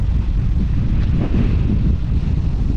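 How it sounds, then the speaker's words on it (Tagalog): Strong wind roaring and buffeting against the microphone at a river, a loud, continuous low rumble with no voices. "Grabing hangin."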